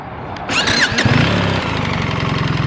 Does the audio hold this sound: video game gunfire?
no